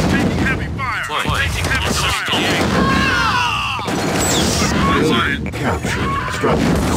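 Gunfire hits units in a 2v2 real-time strategy game, dense and continuous bursts of shots and impacts layered with clipped unit voice responses throughout.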